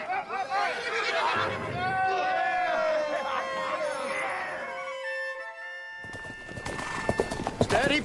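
Horses trotting as a radio drama effect, steady clip-clop hooves with a whinny and crowd murmur amid dramatic voices, then a quieter gap before voices resume over the hooves.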